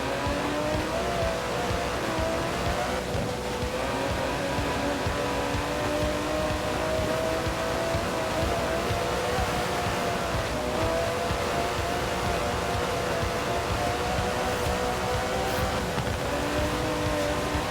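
The 5.2-litre twin-turbo V12 of an Aston Martin DB11 drones steadily in Forza Horizon 4, a continuous engine hum with gently shifting pitch and no pauses.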